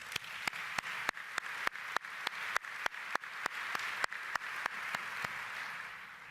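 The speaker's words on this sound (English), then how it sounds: "Let's give those communities a big round of applause" Convention audience applauding during an opening general session, a broad wash of clapping with sharp, regularly spaced hand claps standing out near the microphone, continuing for several seconds before thinning slightly at the end.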